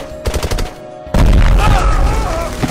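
A grenade thrown into an enemy bunker in a World War I battle scene from the film War Horse bursts with a sudden loud blast, preceded by scattered crackling gunfire and followed by a rumbling, ringing aftermath.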